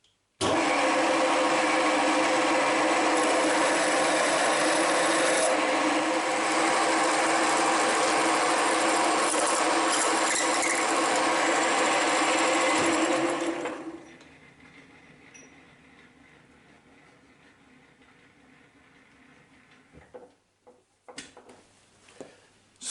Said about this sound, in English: Let's drill something bigger.